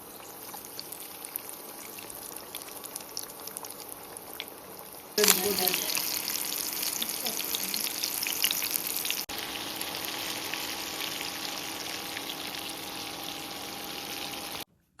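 Egg- and Lay's chip-coated chicken pieces drop into hot oil with a sudden loud sizzle, then a steady bubbling fry continues close by for the rest of the stretch, with no talking.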